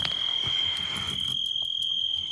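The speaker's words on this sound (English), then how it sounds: "there's tons of the crickets in the background" Steady high-pitched trilling of crickets on rural land in Spain, a continuous near chorus with a faint second tone above it, and soft background rustling.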